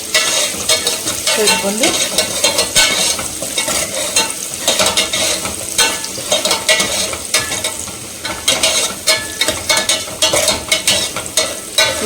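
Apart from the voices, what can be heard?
onions and curry leaves frying and being stirred in a pan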